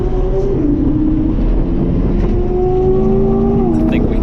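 Engine roar of a Chevrolet Corvette C7 Stingray on a race track, heard from inside the car as it chases a Porsche GT3 RS, with a steady loud drone and shifting pitch as the revs rise and fall.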